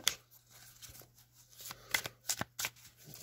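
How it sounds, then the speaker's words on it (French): Oracle cards shuffled by hand, soft riffling and sliding with several sharper flicks and slaps building toward the end, close and fairly quiet, with no talk. "on va bien mélanger les cartes"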